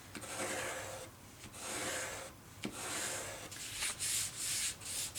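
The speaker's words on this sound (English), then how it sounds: "just give it a nice burnish along the edge" Soft repeated rubbing strokes as a tape edge is burnished down on a Kraft Tex book cover, several passes in a row, quiet and close with no talking.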